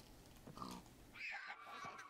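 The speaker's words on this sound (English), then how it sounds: "Here's a pig. This is actually a were pig." A pig, a were-pig in the Jojovein game mod, gives a couple of quiet grunting oinks, faint against low background noise.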